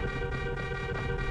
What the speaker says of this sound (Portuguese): como é que eu aperto a buzina?